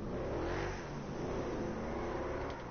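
A monster truck engine in GTA Online roars in a sustained, loud, close rev, deep and steady for the whole stretch with no voices over it.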